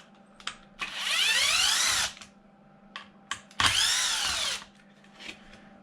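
A power drill backs out screws from the side body mounts of a Traxxas XRT RC truck, two long whirring bursts with brief trigger blips between them, close and loud against a faint background hum.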